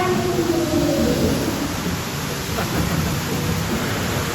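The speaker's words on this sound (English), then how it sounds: "Waterfall." A waterfall along a rainforest river ride in Galveston pours as a steady, loud, broadband rush, with no voices over it.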